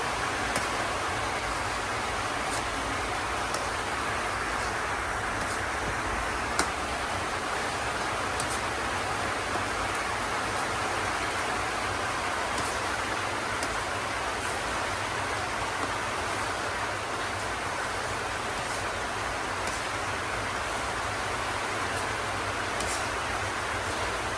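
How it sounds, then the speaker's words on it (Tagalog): Heavy rain pours without a break in the Philippines, a dense, even hiss that stays at the same level throughout, with no voices over it. "Sabi nga, lakas ng ulan."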